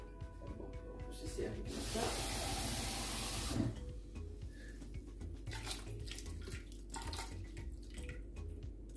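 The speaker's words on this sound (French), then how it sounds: "dans la même casserole, je vais rajouter de l'eau" A small amount of water is poured into a cooking pot for braising pork shank, making a loud splashing rush for about two seconds before it settles into quieter drips and clinks.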